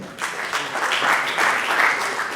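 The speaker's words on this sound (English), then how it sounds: "Let's give you a round of applause." Audience applause fills an energy symposium and exhibition hall, a steady, dense burst of clapping from many people that holds at an even level for a couple of seconds.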